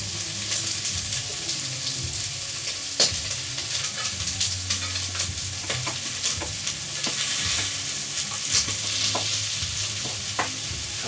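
Onions browning in a pan for a liver dish, a steady loud sizzle with scattered clicks and scrapes of stirring throughout, no talking.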